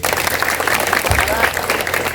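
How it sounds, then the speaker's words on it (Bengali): An audience at a higher secondary school gathering in Chelagang, Tripura, breaks into dense, sustained applause for the hostel staff. A voice is heard faintly beneath the clapping. "হোস্টেলের ম্যাডামদের জন্য জোরে একটা হাততালি হচ্ছে"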